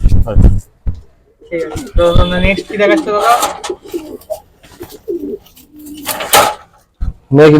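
Homer pigeons coo in low, throaty bursts nearby, mixed with fluttering, shuffling and someone talking over them.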